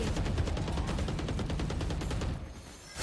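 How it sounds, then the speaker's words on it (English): Crumbling, crashing destruction as a wall breaks apart in a competitive multiplayer video game match, a loud dense rumbling burst sustained for over two seconds before trailing off. "Ooh, the wall broke."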